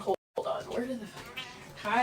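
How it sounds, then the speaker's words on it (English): A pet cat meows indoors, a short high call, while a person talks over and around it close to the microphone. "That's my cat."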